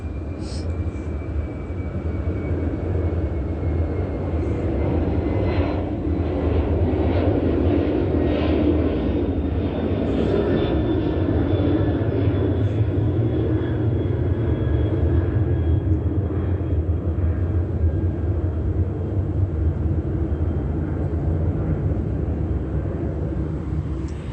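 An airplane flying overhead at night, a steady broad engine roar that persists throughout with a faint slowly falling whine, fairly distant and constant in loudness.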